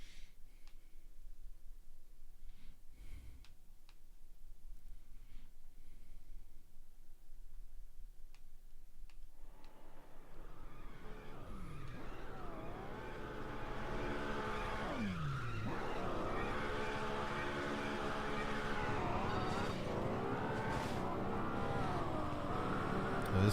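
Racing game Midnight Club 2 with an engine revving and tires squealing as the car drifts and skids, growing louder and more intense after a quiet opening stretch, with no talking.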